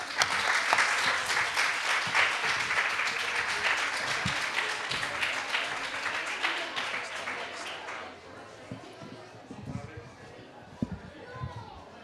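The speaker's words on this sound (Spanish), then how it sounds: "os invito a hacer un grande aplauso para nuestros niños y nuestras niñas" Audience applause for children about to read stories at a book presentation and dramatized reading, a loud dense burst of clapping for about eight seconds that then thins to scattered claps over quieter room murmur.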